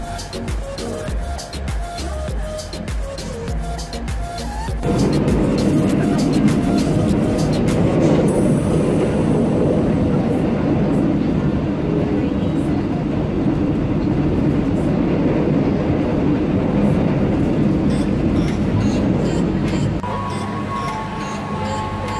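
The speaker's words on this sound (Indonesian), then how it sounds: "Jadi ini keretanya jadi guys." Train running between Solo Balapan and Yogyakarta Tugu stations in Indonesia, a steady loud rumble of wheels and carriage noise filling most of the span, with quieter cabin sound before and after.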